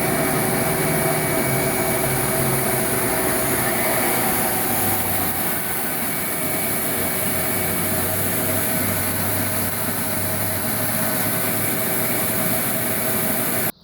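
A homemade cocoa winnower runs steadily, separating crushed cocoa husk from nibs with a loud, continuous blower-like roar and a low motor drone that holds unbroken throughout.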